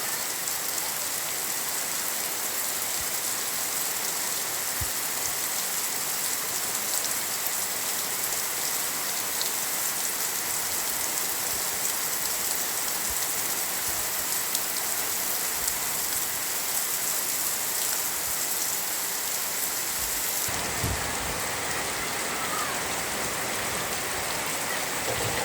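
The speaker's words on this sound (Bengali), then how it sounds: "খুব সুন্দর বৃষ্টি হচ্ছে" Heavy rain pours down steadily, a dense, even hiss of drops hitting surfaces that stays loud and unbroken throughout, with no voices.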